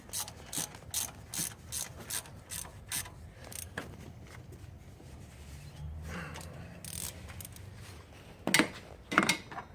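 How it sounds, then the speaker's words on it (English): A ratchet tightening the airbox bolts on a Toyota car clicks in quick rhythmic bursts of pawl ticks, close and fairly quiet, with a pause and then a couple of sharper clicks near the end. "these bolts should be tightened up to no more than 10 foot-pounds"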